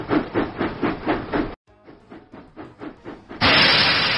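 Cartoon steam engine sounds from a Thomas and Friends train video game: rhythmic chuffing puffs that pause briefly, resume more softly, and then give way to a loud, sustained steam hiss, with no voices.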